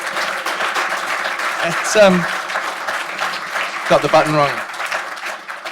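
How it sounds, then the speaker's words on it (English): Audience at a lecture applauds in a steady wash of clapping while a nearby voice speaks briefly over it. "Give him another round of applause."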